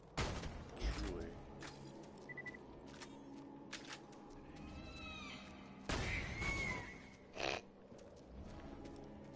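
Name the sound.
gunshots in video game Burgerland 2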